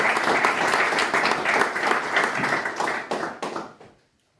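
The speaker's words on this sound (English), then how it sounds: "So a wee round of applause for FINTRY Development Trust" A small community audience applauds Fintry Development Trust at a talk on the birth of Fintry Sports Club, brisk close clapping that thins out and stops cleanly near the end, leaving silence.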